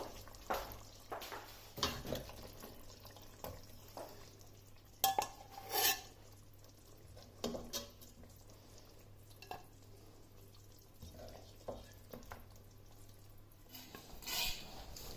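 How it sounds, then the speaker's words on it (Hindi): Punjabi chicken gravy being scooped into a serving kadhai, heard as repeated close metal spoon clinks and scrapes against the pan with soft wet stirring, uneven in rhythm over a faint hum. "अब फ्लेम को बंद कर देना है और इसे सर्विंग कढ़ाई में डाल देना है"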